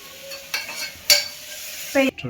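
Ginger garlic paste, green chilli and mint sautéing in a pan for white kurma, a close, steady sizzle interrupted by several bursts of stirring and scraping from a metal spoon.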